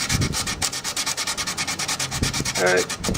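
Sandpaper rubbed by hand over a violin's treated wooden surface, a close, loud, rhythmic back-and-forth scratching of quick even strokes, about six per second, with no talk.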